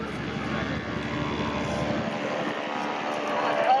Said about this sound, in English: flying the Green Legend Cub here on the inside lane